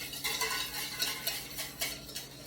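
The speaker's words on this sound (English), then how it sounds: "I'm just gonna whisk that around" A whisk beats olive oil, black pepper and salt into a sherry vinaigrette for a spinach and pear salad, with quick rhythmic scraping strokes against the bowl, soft and close, with no voices.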